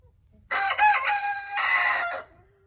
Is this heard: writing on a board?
no